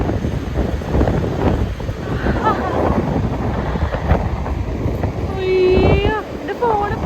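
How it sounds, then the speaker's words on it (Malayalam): Strong outdoor wind blowing dust around, a steady roaring gust buffeting close to the microphone throughout, with people talking over it and a brief whistling tone near the end. "നല്ല കാറ്റാണ്, മഴയില്ല."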